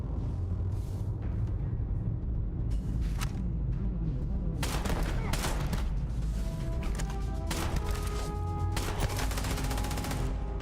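Weapon gunfire in the Starfield video game, rapid bursts of sharp shots stacking into dense volleys over a steady low rumble, growing busier and louder toward the end.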